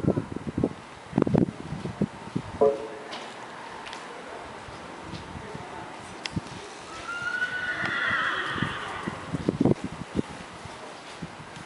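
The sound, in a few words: horse at a trail obstacle class of a horse show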